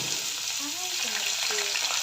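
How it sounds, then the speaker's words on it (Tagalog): Garlic dropped into hot cooking oil for chicken lumpia Shanghai, giving a dense, even hiss of frying that holds steady throughout, close and bright, with no voices. "Mainit na ang ating mantika. So, ilagay na natin ang ating bawang."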